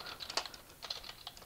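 A short burst of typing on a computer keyboard while entering a sudo nano command, rapid soft key clicks at close range with no voices.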